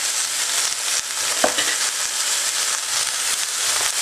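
Onions and butter sizzle steadily in a pot at the start of a French onion soup, a dense, even frying hiss with one brief clack near the middle.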